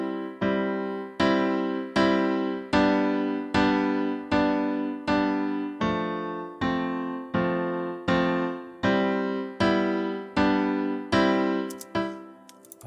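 Recorded piano take played back in Logic Pro X: a steady run of repeated chords, each struck firmly and left to ring and decay before the next, at an even pace of about one and a half per second, with no voices.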